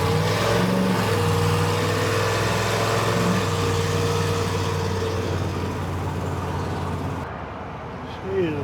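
A car engine fitted with an oversized carburetor runs with a steady, loud drone that stumbles on and off, then drops to a quieter, lower idle near the end.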